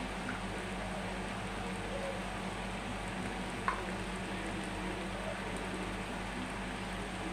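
Spice paste of ground cumin, ginger, garlic and chilli frying in a pan with salt and turmeric for lau curry, a soft continuous sizzle with faint scraping stirs and one brief clink, fairly quiet.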